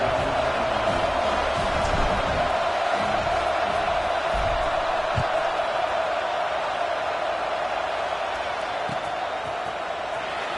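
A football stadium crowd in a video game gives off a steady, dense roar that stays loud and constant throughout, with no distinct cheers standing out.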